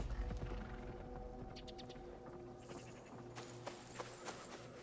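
A horse galloping away in the video game Assassin's Creed Shadows, its hooves thudding rhythmically at first, then fading under game ambience and music.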